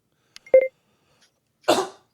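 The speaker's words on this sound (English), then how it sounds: "I coughed" A single short cough rings out clearly near the listener in a quiet rural setting, preceded by a faint electronic tone and tapping blip.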